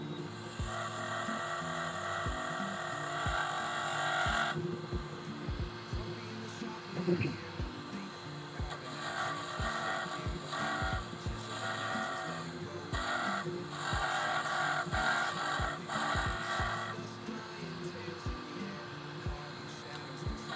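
A woodshop dust collector with 4-inch plumbing pulls fine dust from a small dowel being turned, a steady whining drone that surges and drops in level, with a regular ticking beneath it throughout.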